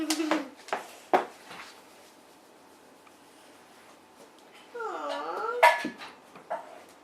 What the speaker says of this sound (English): Such a good puppy girl.